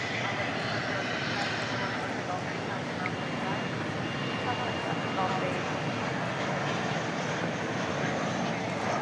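Airliner engines roar at DFW Airport at night, a broad continuous rumble that holds steady and fairly loud throughout, with no clear rise or fade.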